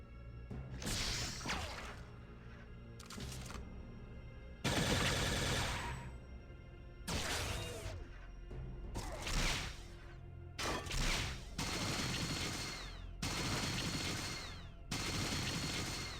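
Repeated bursts of turret gunfire from the video game Fallout 2, loud clustered volleys separated by short gaps, with whooshing and crashing hits mixed in.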